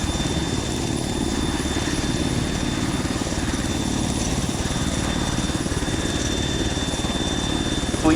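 A helicopter in a military simulation game roars loud and close with a steady, unbroken rotor and engine drone the whole time, no voices over it.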